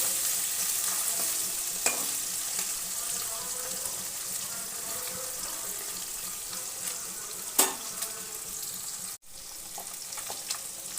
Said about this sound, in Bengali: অল্প অল্প করে দিয়ে ভেজে উঠিয়ে নেব।